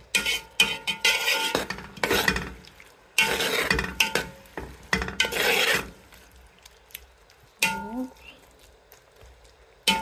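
Prawns cooking in a pan while being stirred, giving loud bursts of scraping and rasping with a faint sizzle, broken by short quiet gaps.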